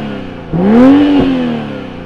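A turbocharged straight-six BMW M440i revs once, loud and close, climbing from idle to a smooth peak and easing back down over about two seconds.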